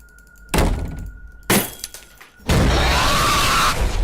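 Cartoon sound effect of a picture falling, with loud glass breaking and shattering in several separate crashes, the last one a long sustained smash.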